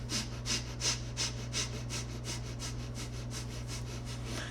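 Breath of fire in a Kundalini yoga class, rapid rhythmic nasal exhalations pulsing steadily about three per second, close and clear over a low constant hum, with no talking.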